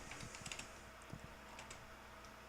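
Quick, quiet keystrokes on a computer keyboard, scattered clicks in short bursts with gaps over a low steady hum, with no voices.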